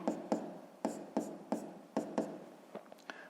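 Pen strokes scratch across paper in about a dozen short, distinct taps and scrapes while an asterisk is drawn, close and quiet, with no voices.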